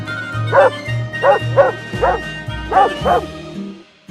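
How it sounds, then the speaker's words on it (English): A dog barks in a series of about seven sharp, close woofs at an uneven rhythm, with low rumbling background between barks. "Dog."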